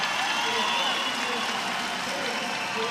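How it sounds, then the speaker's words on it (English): Arena crowd at a FIBA Women's AmeriCup basketball game applauds Team Mexico taking the court, a steady wash of clapping and cheering that fills the hall evenly without letting up. "A huge round of applause from the fans here for Team Mexico as they take the court"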